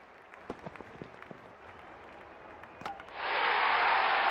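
At a West Indies Premier League cricket match, faint scattered claps and crowd noise swell after about three seconds into a loud, sustained roar of cheering and applause.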